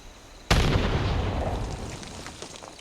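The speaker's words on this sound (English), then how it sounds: "So I'm going to throw the grenade over to the side." A grenade goes off in the video game Fallout 76 with one sudden loud boom after a brief quiet moment, followed by a rumbling decay that fades over the next two seconds.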